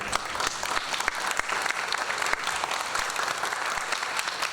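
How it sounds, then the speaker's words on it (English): Audience clapping for a performer after a performance art piece, a fairly quiet, even patter of many hands that continues steadily without voices. "give a round of applause to my performer"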